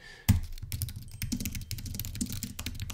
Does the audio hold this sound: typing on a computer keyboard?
yes